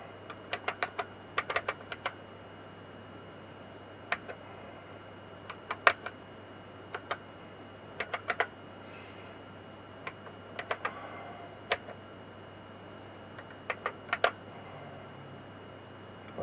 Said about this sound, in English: Oh yeah, the keyboard seems to be working okay.